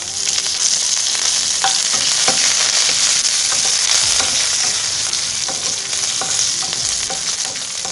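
Red chillies and curry leaves fry in hot oil, a loud, bright, continuous sizzle and crackle with scattered pops and spoon stirring, close up.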